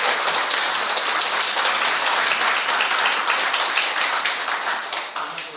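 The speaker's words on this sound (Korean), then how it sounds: "큰 박수 한번 드리겠습니다." An audience at a panel discussion on fire service funding applauds loudly and steadily, dense clapping from many hands that tapers off slightly at the end.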